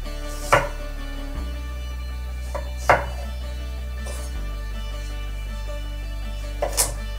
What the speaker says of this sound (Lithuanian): Svogūnus pjaustom pusiau žiedais.